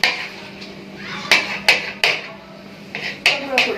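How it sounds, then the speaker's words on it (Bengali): A knife strikes a cutting board while finely mincing cheese in a home kitchen, giving a few sharp, close taps at irregular intervals over a low background murmur. "পিস পিস করে কাটতেছি না, কুচি কুচি, গুঁড়া গুঁড়া করে।"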